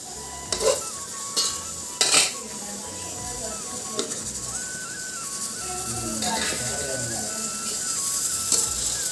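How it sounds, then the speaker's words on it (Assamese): Meat frying in a covered pot, a steady sizzle broken by a few clattering metal knocks of the lid and a spoon stirring, with a faint voice and a tonal hum in the background. "ঢাকোন মাৰি ভাজি থাকিম এতিয়া।"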